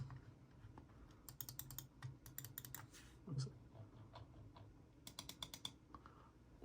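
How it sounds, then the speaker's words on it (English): Sharp mouse button clicks from a Razer Deathadder V3 gaming mouse, quiet and close, come in quick bursts of several clicks with pauses between. "the clicks are much louder compared to the Model O"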